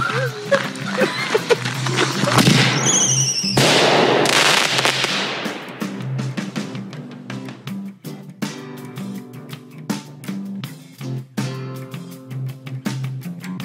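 Smoke bombs go off during an outdoor photoshoot, a sharp burst of loud pops followed by a long fizzing hiss, then scattered clicks and bangs as people talk and shout nearby.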